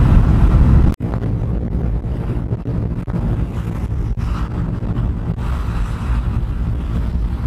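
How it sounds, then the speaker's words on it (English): Steady, loud wind roar buffets the microphone while a motorcycle cruises along an open highway, a broad continuous rush with a sharp dropout near the start and no voices. "Although it's quite windy here,"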